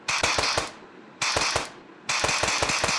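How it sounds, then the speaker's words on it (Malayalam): Loud, close gunfire in a video game aimed at a buffalo, arriving in three quick bursts of rapid sharp shots separated by brief fading gaps, with no talking. "നമുക്ക് എരുമ തന്നെ ഒരു വെടിയങ്ങ് വെച്ചെടുക്കാം."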